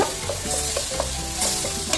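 Tomatoes sizzle steadily in a hot pan while being stirred, with soft scraping and clicks, close up and no voices.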